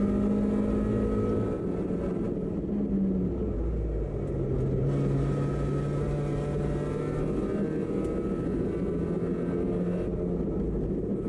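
Race car in the SM2 class of an MCSCC sprint series race running at full throttle in fourth gear on a dry track, a loud, steady engine drone with a low rumble and no voices over it.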